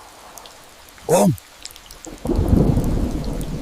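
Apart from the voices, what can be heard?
heavy rain and thunder in a rainforest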